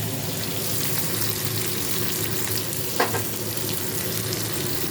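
Onion, garlic and green chilli fry in a pan with a steady, close sizzle throughout, broken by a single brief clatter near the end.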